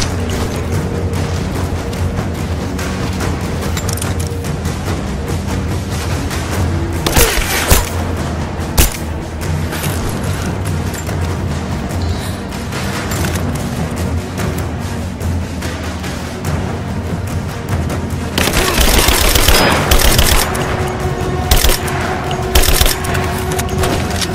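Dense gunfire and explosions from the video game Rise of the Tomb Raider: continuous crackling shots with heavy booming blasts, loud throughout, swelling into a thicker barrage near the end.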